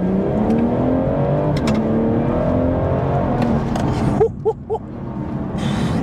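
Engine and road noise from a BMW M240i fitted with bucket seats hums steadily as the car brakes along a road, with a few short clicks and a brief louder burst near the end.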